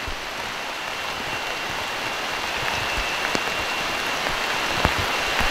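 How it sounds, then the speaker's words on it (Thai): Heavy rain pours down on a makeshift forest shelter, a close, dense and constant hiss with occasional sharper drops standing out. "ตอนนี้ฝนตกหนักเลยนะครับ"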